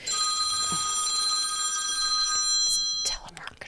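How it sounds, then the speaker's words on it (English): A telephone rings steadily with a bright, sustained electronic trill for about three seconds, then cuts off, leaving faint background noise and a brief voice. "That was my phone ringing"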